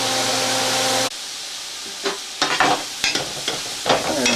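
Onions, celery and garlic sauté in a pot for loaded potato soup: a loud steady sizzle cuts off abruptly, then a quieter hiss continues under several close spoon scrapes and knocks of stirring.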